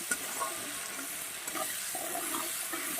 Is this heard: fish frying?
yes